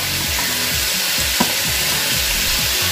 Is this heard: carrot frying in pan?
yes